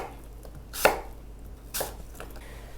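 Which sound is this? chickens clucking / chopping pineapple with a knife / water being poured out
chopping pineapple with a knife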